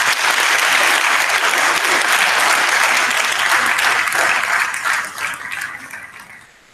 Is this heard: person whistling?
no